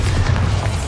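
Bombarda blast spell in Hogwarts Legacy, a short, loud, deep booming explosion with a rumbling low end that fills the whole brief moment.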